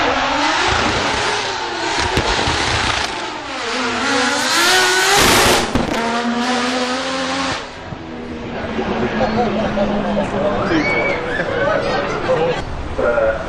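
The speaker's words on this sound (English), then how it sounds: "Aston Martin Valkyrie making its way up the hill" Aston Martin Valkyrie hypercar climbing a hill at a speed festival, its engine loud and sustained with rising and falling revs as it passes, over crowd chatter and commentary.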